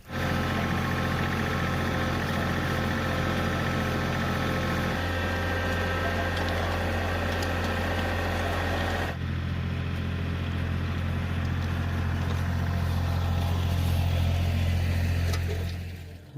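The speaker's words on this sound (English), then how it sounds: "let me fire this tractor up." Garden tractor engine running steadily after starting, a loud continuous droning idle that shifts pitch and settles partway through, heard alone at close range for the whole stretch.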